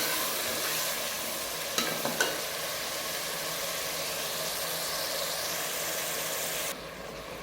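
Masala for goat trotter paya being stirred and fried in a pan, a steady broadband sizzle running throughout with a couple of brief utensil scrapes near the start, the frying dropping slightly quieter just before the end.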